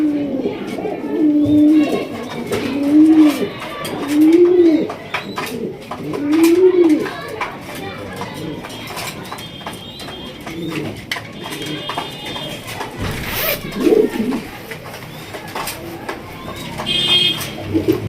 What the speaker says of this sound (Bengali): একজোড়া হাই কোয়ালিটির একজোড়া ব্লু ম্যাকপাই পটার কবুতর দিয়ে দেখতেই পাচ্ছেন